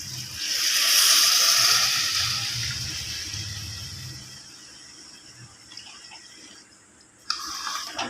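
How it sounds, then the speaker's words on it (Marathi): Water poured into a spiced masala bhat rice mixture in a cooking pot: a loud, close rushing splash that swells, then thins and fades over several seconds into near quiet, ending with a brief knock. "आता याच्यामध्ये पाणी सोडायचं आहे."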